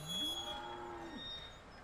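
A single cow lets out one drawn-out moo lasting about a second inside a farm shed, fairly close and clear over a quiet background.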